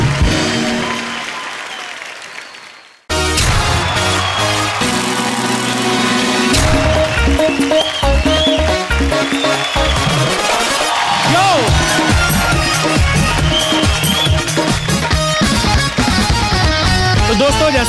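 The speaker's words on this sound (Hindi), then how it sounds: "तालियां।" Studio audience applause and cheering on a comedy talk show, bursting in loudly after a brief quieter opening and continuing as a sustained crowd roar with music and voices mixed in.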